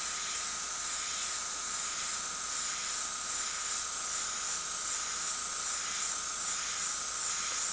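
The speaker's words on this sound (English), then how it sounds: "very loosely, again creating lines with the airbrush." An airbrush sprays red paint onto canvas, giving a steady, continuous airy hiss that holds at an even level throughout with no other sounds.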